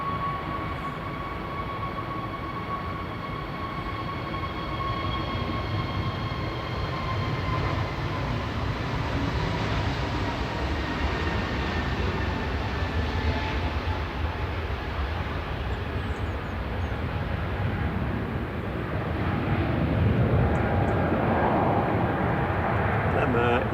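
An EasyJet airliner departs Manchester Airport for Gran Canaria with a sustained jet roar and high whining engine tones, holding steady and growing a little louder near the end.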